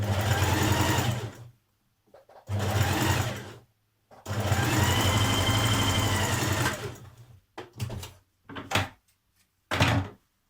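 A sewing machine runs a shallow stretch stitch along a sweatshirt seam, in three long steady bursts followed by several short ones, loud and close with pauses of silence between.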